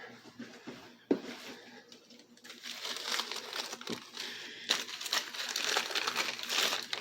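Paper crinkles and crumples in bursts while being pushed down among more paper inside a Wonderluxe coal and wood stove, with a sharp knock near the start and steady rustling throughout, close and moderately loud.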